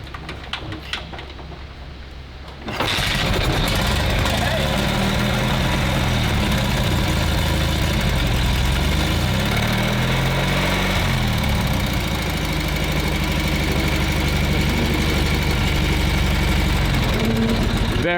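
WWII Zundapp KS 750 motorcycle, a 750 cc two-wheel-drive bike, fires up after a few seconds of quieter sound and settles into a loud, close, steady idle that runs to the end.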